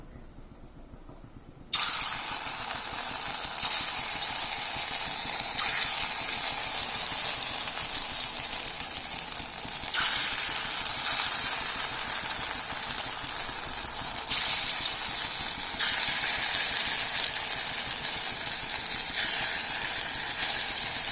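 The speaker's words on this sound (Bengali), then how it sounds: "এইভাবে সমস্ত বড়াগুলো ভেজে নিচ্ছি" Shrimp fritters frying in hot oil give a loud, continuous bright sizzle that starts abruptly and holds steady, with slight swells in intensity as the batter cooks.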